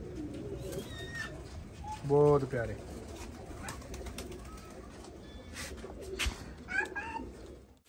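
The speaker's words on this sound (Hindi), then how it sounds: "आ तुसीं वेखो कबूतर क्या बात है" Slate-grey pigeons coo in a loft, a brief throaty burst standing out near the middle over steady background bird chatter, with a person speaking softly.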